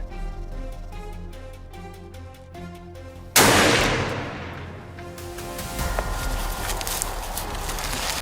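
One loud, close gunshot rings out in a forest during a boar hunt, cutting through steady ambient music and leaving a decaying rumble with faint rustling afterward.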